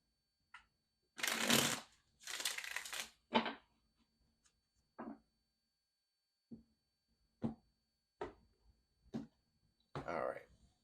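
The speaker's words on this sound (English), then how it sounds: "so let's go ahead and get one more shuffle" Tarot cards are shuffled in a quiet room, with two long riffling bursts followed by a series of short, sharp taps and slaps as the deck is squared and cut.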